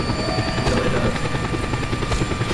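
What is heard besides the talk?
helicopter in the video game Just Cause 2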